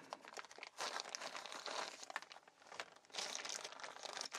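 The original packaging of an Elgato product is opened close up, with bursts of crinkling and tearing as it is pulled apart.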